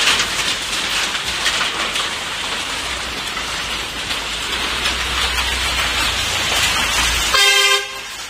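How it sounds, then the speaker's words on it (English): Dense, steady pounding of hailstones on rooftops, vehicles and streets in China, like a heavy downpour, continues throughout, and a car horn toots briefly near the end. "Many woke up to the loud, rhythmic pounding of ice pellets striking rooftops, vehicles, and the streets"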